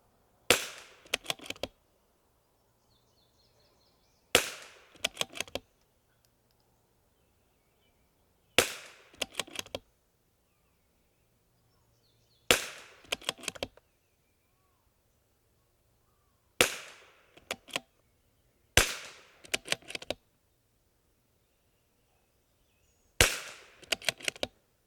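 Sharp rimfire rifle shots from a CZ457 MTR with Eley Ultra ammunition ring out in seven short clusters of quick cracks, loud and close, with near silence between them.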